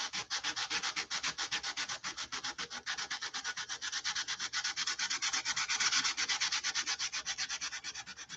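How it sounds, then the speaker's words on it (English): Hand sanding over Z-epoxy coated balsa wood, a rapid, even back-and-forth rasp of strokes repeating steadily up close with no voices. "I'm on top of the Z-epoxy now, so it sands a little bit harder than balsa wood"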